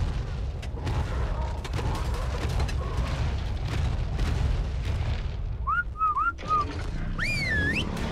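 Short rising whistle calls from the whistle command in ARK: Survival Evolved, a few quick chirps over a dense rumble of distant booms and gunfire during a busy fight.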